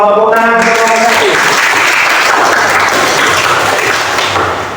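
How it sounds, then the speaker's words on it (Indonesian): Classroom of students applauding a group, loud close clapping that swells in right after a short voice and then carries on steadily, fading slightly at the end. "Tepuk tangan kelompok 1."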